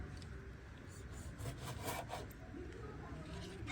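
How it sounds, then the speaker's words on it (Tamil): A knife cutting tomatoes into large chunks on a board, soft rubbing and slicing strokes close by, quiet and continuous, with faint speech in the background. "இப்போ இந்த வெங்காயம் மாதிரி தக்காளியை பெருசாக வெட்டு அரைக்க போகிறோம். சும்மா 2-4 துண்டாக வெட்டுங்க."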